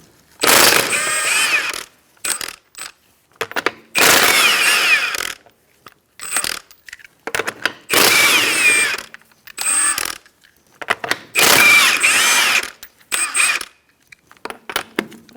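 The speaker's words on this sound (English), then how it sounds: "Using a 21mm socket, we're going to take off our lug nuts." A 21mm socket on a ratcheting power tool spins lug nuts off the front wheel of a 2004-2009 Mazda 3, with five loud bursts of whirring and clicking separated by short pauses.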